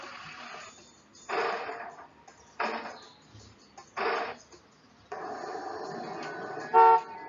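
Several short car horn toots in an uneven rhythm over faint traffic, ending in a longer blast and a brief high tone, with no voices.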